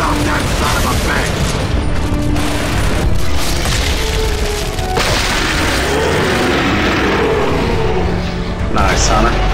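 Turret gunfire and explosions from Gears of War 2 come as a loud, continuous wash of mechanical rattling and booming blasts, with shouted character dialogue on top.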